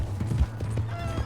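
Horse hooves in Red Dead Redemption 2 clop in a quick, uneven rhythm, close and fairly loud over a low background hum, lasting only a moment.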